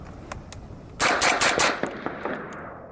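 Suppressed gunfire through a Surefire SOCOM RC2 suppressor: a few isolated shots, then a quick string of loud, sharp reports with a slight crack, fading into short echoes outdoors.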